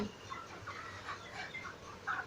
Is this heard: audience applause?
no